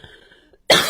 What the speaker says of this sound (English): Almost made it through without coughing.